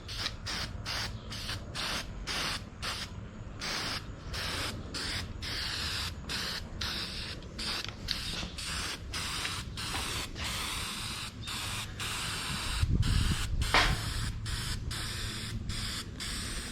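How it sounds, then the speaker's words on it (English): Weld-through primer sprays from an aerosol can onto a 1955 Chevy gasser splash pan in a series of short hissing bursts, then longer continuous spraying, close and steady with a brief louder clatter near the end. "we're going to put down some of this weld-through primer"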